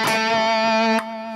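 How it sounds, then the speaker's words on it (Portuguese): Electric guitar run through a MeloAudio Tone Shifter Mega with both reverb and delay engaged, holding a loud, rich distorted chord that changes after about a second and keeps sustaining. "Agora com reverb e delay."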